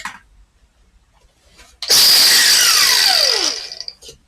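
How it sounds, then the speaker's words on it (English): An angle grinder cutting into the exhaust headers of a Mazda Protege5 with a KLDE engine: after a quiet start it spins up into a loud, harsh, close screech for about two seconds, its pitch sliding down as it winds off. "I think this is an angle grinder job, actually."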